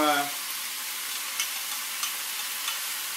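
Sauce poured into a hot pan of ma po tofu brings a soft, steady sizzle with a few light stirring clicks, close and moderately quiet, with no talking.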